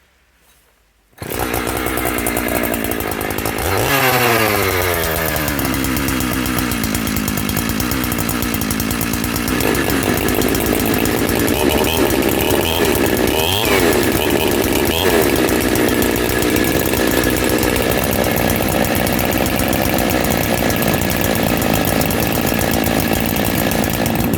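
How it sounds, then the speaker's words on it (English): Two Husqvarna 365 chainsaws start up and roar continuously at close range, engines revving and bogging with a dense, buzzing drone. "I love the noise of two saws running together."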